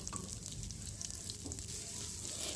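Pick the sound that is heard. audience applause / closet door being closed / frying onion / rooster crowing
frying onion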